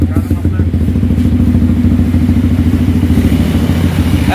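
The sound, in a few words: Yamaha XSR 155 motorcycle with SC Project exhaust pipe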